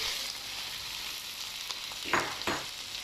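Chicken pieces frying in a pan for Shimla chicken, a soft continuous sizzle with a couple of louder stirring scrapes near the end.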